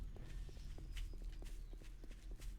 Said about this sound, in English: I still hear footsteps